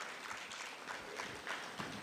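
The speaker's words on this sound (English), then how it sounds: "can I ask once again a round of applause for Mr." An audience applauds at a fireside-chat event, a faint, distant wash of clapping that stays steady for two seconds.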